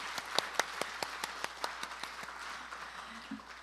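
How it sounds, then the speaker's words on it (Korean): Scattered, fairly faint applause from an audience opening a memorial ceremony, with distinct individual claps in an uneven rhythm that thin out toward the end. "큰 박수로 행사 시작하겠습니다."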